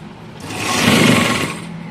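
A sewing machine stitches a suit sleeve in one short run, its motor whirring up from quiet to a loud, close hum and then easing off within two seconds.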